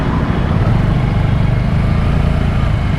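Engine of a Suzuki Gixxer SF 150 BS6 motorcycle on a test ride, a steady, loud low rumble with wind noise, continuous throughout.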